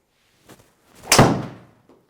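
A golf driver strikes a ball in a single sharp, close impact that fades quickly, with a couple of faint knocks around it.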